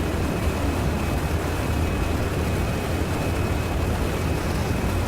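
A DC-3 airplane in the flight simulator FSX, its piston engines a steady, dense drone with full flaps set on landing approach, holding at one level with no talk.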